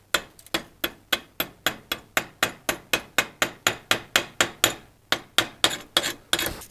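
Steady hammer taps chip slag off a fresh weld on an old axe blade, roughly twenty sharp metallic strikes in an even rhythm with a short pause near the end, close and clear with no talking.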